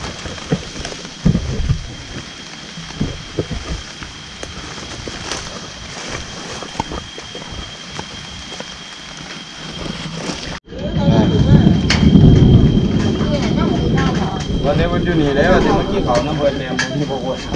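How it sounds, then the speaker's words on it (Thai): Heavy rain pours down in a Thai forest, a lighter patter at first, then a sudden loud, dense downpour that roars steadily to the end while voices speak over it. "ฝนใหญ่มากแล้ว ฝนลงมาฝนลงมาแล้วครับ"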